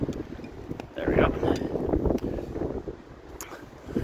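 Steady gusting wind rumbles across the microphone throughout, growing louder and more turbulent after the first second.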